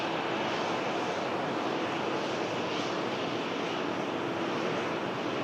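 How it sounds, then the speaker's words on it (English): A Ryanair passenger jet arriving from Barcelona touches down, its engines giving a broad, steady roar that stays loud and even throughout, with wind-like hiss layered over it and no voices. "Ryanair from Barcelona touches down."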